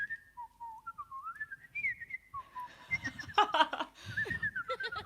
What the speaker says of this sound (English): I've been whistling that riff for about 10 years.